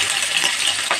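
Potatoes tossed into a hot pan of oil with whole cumin, cinnamon, cloves and cardamom, giving a loud, steady hiss of frying that fills the moment with no talk.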